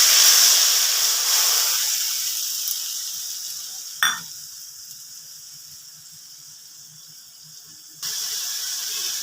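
A spice paste of Kashmiri red chilli powder, hot chilli powder, salt and turmeric hits hot oil with garlic for rui fish curry, giving a loud hiss that fades slowly, with one sharp clink partway and a brief renewed sizzle near the end.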